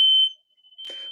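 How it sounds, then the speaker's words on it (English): A hardwired fire alarm chirping indoors: a loud piercing electronic beep that cuts off sharply, followed by a short burst of noisy rustle, close and alone with no talk. "the fire alarm is hardwired in, right? And it keeps chirping."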